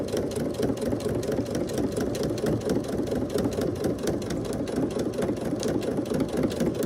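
A sewing machine runs steadily while stitching curtain fabric, a fast even mechanical chatter close by with no pauses.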